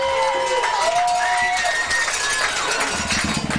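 Spectators at a 7th and 8th grade football game against Bexley make a steady crowd roar with scattered shouts and whistle-like cries over the field noise, while nearby voices talk underneath.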